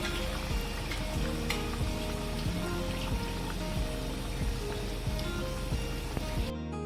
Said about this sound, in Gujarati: તેલમાં બી તમારે આસ્તેથી મૂકવું પડશે.